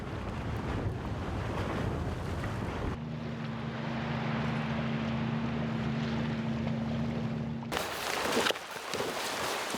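A rubber boat motors across the sea near an Antarctic research station, its outboard engine a steady close drone under heavy wind and splashing water, framed by gusty wind noise before and after.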